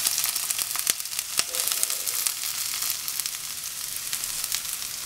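Onion fries in hot oil in a pan for veg kothu parotta, a bright crackling sizzle with sharp pops scattered through, loud and close, with no speech.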